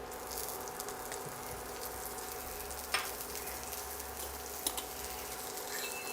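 Chopped green chili and asafoetida sizzling steadily in hot oil, a constant moderate fry with a couple of brief stir clicks.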